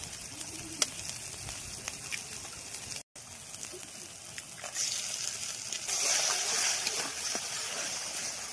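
Eggs added to sizzling spiced masala in a pan for a dhaba-style egg tadka dal, steady frying hiss with a brief drop, then a louder, brighter sizzle swelling in the second half.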